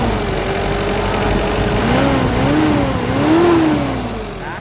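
A 2004 Mitsubishi Strada L200 4x4 double-cab pickup engine idles nearby, then revs in a few smooth swells, its droning pitch climbing and falling, with no voices.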